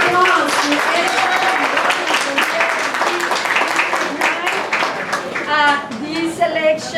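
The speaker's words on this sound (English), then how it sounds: "Let's give applause to everyone." An audience at a Dallas chorizo menudo breakfast gathering applauds steadily for several seconds, with voices talking and calling out over the clapping throughout.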